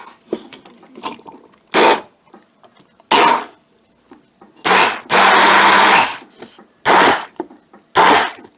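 A blender purees onion in short bursts: several brief loud whirring pulses, then a longer sustained blend of about a second, with quiet gaps between them.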